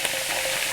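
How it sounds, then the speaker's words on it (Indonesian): Kaffir lime leaves fry in hot oil, a steady broadband sizzle with no pause across under a second, close and moderately loud, with no voices. "Saya mau goreng daun ini ya, daun jeruk ya."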